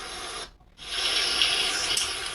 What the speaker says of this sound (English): And this is me refilling the main water tank for my storage unit.